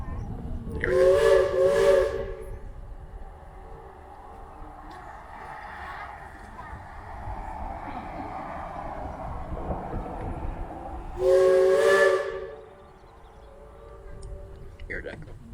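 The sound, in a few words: steam whistle of Cripple Creek and Victor narrow gauge train, echoing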